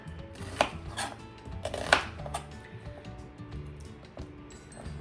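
A knife chops an onion on a board: a couple of sharp, louder knocks early on, then quieter, sparser cuts, heard up close with no talk.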